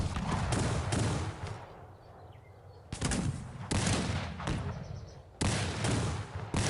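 Cannon artillery firing in the video game Cossacks 3, loud booming volleys in rapid bursts, several clustered salvos separated by short pauses amid battle noise.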